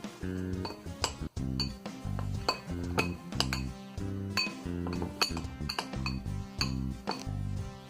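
A spoon stirs honey and fox nut chocolate ingredients in a bowl, making sharp, regular clinks and scrapes against the bowl over a steady musical background.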